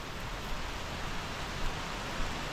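Rain falls steadily on a forest trek near Thoovanam Waterfalls in Munnar, making a dense, even hiss with no distinct drops and no voices.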